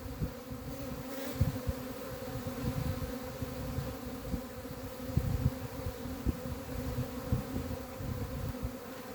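Dense, steady buzzing of many honey bees crowded close together at an open hive during a frame inspection, a continuous low drone with small swells and no voices.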